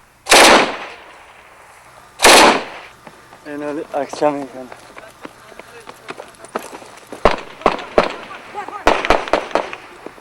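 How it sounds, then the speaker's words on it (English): Two loud booming Katyusha rocket blasts open, then people talk while sharp pops of gunfire crackle in irregular bursts toward the end, at a front line. "the steady popping of gunfire and the booms of Katyusha rockets"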